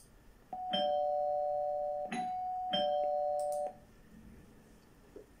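A neighbour's doorbell rings in three drawn-out electronic chimes, each starting with a clack as the button is pressed. The tones sound fairly close and clear in a quiet room.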